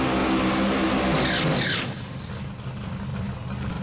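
A drag racing car's engine runs loud and steady for the tire warm-up at a harbor at night, its roar easing after about two seconds and then holding a lower rumble with bursts of high hiss.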